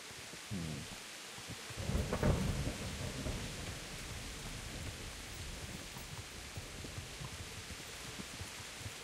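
Thunder rumbles with steady rain through a stormy scene in the PC game Kingdom Come: Deliverance, a loud rolling boom swelling about two seconds in over a constant wash of rainfall.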